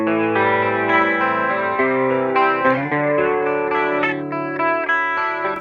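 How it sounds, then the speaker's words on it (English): A Fender Super Champ XD amplifier plays sustained guitar chords through its vibrato setting, a swirling, flanger-like sweep that stays loud and continuous with changing chords and no talking. "Which basically to me sounds like a flanger"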